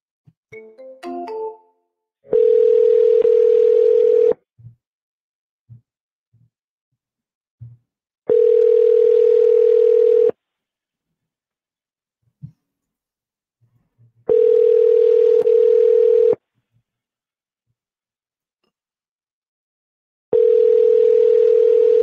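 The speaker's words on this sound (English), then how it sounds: "Okay, I'm going to call her." Telephone ringback while calling a realty office: a steady two-second tone repeating four times with long silent gaps, preceded by a short burst of dialing beeps, loud and close with no talking.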